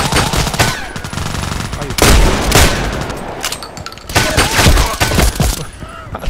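Gunfire in the online shooter Contract Wars: dense bursts of automatic fire and sharp shots, loud and close, coming in clusters with brief lulls, a short spoken phrase slipping in between.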